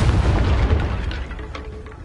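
A Confringo blasting spell bursts in a Harry Potter video game, a deep booming explosion that hits hard at the start and rumbles away over a couple of seconds.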